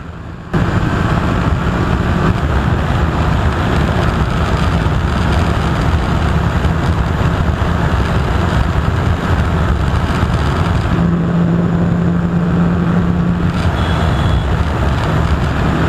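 Steady engine drone from TVS RR310 and Bajaj Dominar 400 motorcycles drag racing on a highway, a loud continuous roar with wind rush and a brief rising rev tone midway.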